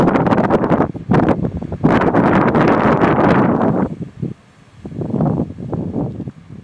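Gusts of wind buffet the microphone in loud rumbling bursts, easing briefly before another gust rolls in; no talking.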